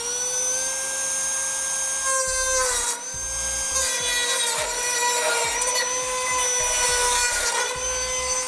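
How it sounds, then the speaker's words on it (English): A high-pitched rotary tool whines continuously while cutting a notch into the steel frame of a 2016 Ford F-250 Super Duty, its pitch dipping and grinding rasps rising as the bit bites into the metal. "Now I'm going to be using a rotary tool to cut out our notch here."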